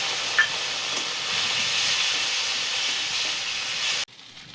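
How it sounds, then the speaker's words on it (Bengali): Ground chilli spice paste frying for a fish curry with cauliflower and young flat beans, a steady loud hiss of sizzling oil that holds evenly and then drops off abruptly near the end. "মশলাটা ভাজা হয়ে গেছে"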